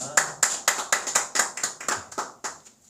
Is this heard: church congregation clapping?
yes